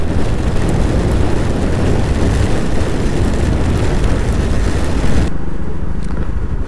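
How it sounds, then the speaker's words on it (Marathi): Heavy road traffic around Lonere on the Konkan route, heard from a Yamaha Aerox 155 scooter: a loud, steady roar of engines and wind close by, with no talk, thinning out abruptly near the end. "हा मी लोणेरेच्या ट्रॅफिकमध्ये अडकलो आहे. भरपूर ट्रॅफिक आहे, भरपूर."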